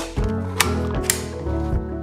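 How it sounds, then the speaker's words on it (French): Two 3D-printed plastic parts for a vacuum accessory holder are slid and clicked together at close range, a ratcheting mechanical rattle with two sharp snaps partway through. "Ça s'emboîte tout seul"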